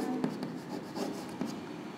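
A pen writes out a solution on paper, close and soft, with short scratchy strokes and small taps in an irregular rhythm.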